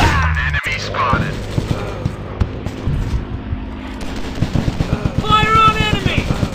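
Gunfire in an anime-style shooting video game: loud, dense bursts of rapid shots and booms, ending in a fast rattling volley, with voices shouting over the action.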